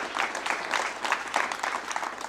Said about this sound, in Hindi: तो इनका भी जोरदार तालियों से आप सभी स्वागत कीजिए।